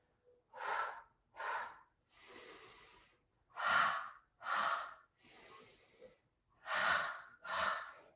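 Slow, deep breaths during a seated chair yoga twist routine: eight close, distinct breath sounds alternating between sharp inhales and longer, softer exhales, heard alone without speech.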